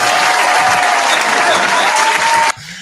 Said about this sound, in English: Can I get the round of applause for that one?